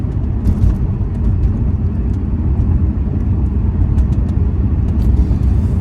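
A 1988 Chevrolet Corvette 35th Anniversary cruising at steady speed on cruise control, heard from inside as a constant low engine drone and road rumble with no changes in pace.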